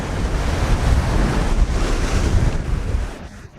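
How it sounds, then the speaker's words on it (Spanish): Ocean waves breaking on small rocks by a lighthouse, a steady loud wash of surf roaring close by with wind buffeting the microphone, easing off near the end. "Estas son pequeñas rocas donde rompen las olas."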